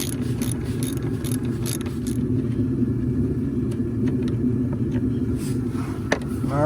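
A ratchet backing out 13 mm bolts from the water pump on a Dodge Ram 1500, quick clicking bursts over a steady low rumble nearby, close and moderately loud with no talk.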